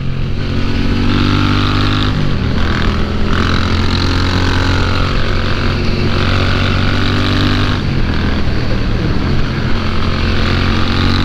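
A Moto Guzzi V7 motorcycle is being ridden, its engine a loud, steady, close drone mixed with wind rush, with brief dips and shifts in pitch near the second and eighth seconds.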